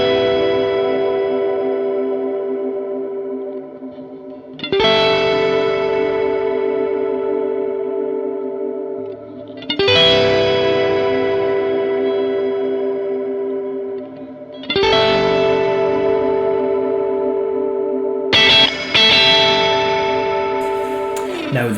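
Simple two-note guitar triad line fed through a Strymon BigSky reverb pedal, each chord struck about every five seconds and blooming into a huge, deep, shimmering wash that sustains and slowly decays before the next strike.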